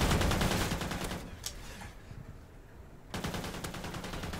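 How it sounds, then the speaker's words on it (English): Automatic gunfire rattles in the video game Call of Duty: Ghosts, a fast burst, then a quieter gap of distant shots before another rapid volley, fairly faint overall. "I'm not gonna get a kill if I keep getting shot like that."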